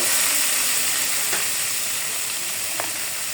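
Steady sizzle of bitter gourd frying in a pan with shrimp, chopped onion and sliced green chili, a continuous hiss with a couple of faint utensil clicks.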